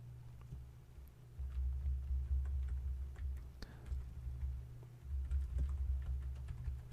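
Someone types on a computer keyboard while entering data, with quiet, irregular key taps over a low steady hum and a faint voice in the background.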